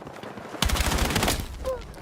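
A short loud burst of rapid gunfire in the Battlefield 6 beta shooter, starting abruptly after a quiet moment and rattling for about a second before fading.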